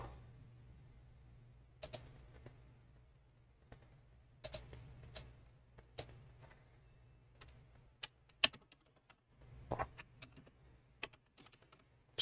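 Quicksort code being typed on a computer keyboard, heard as sparse, faint key clicks in uneven clusters over a steady low electrical hum.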